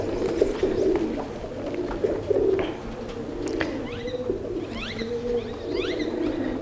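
Racing pigeons at a pigeon club in Mansa, Punjab coo repeatedly in soft throaty phrases, close by, with chirps from other birds scattered over a steady background.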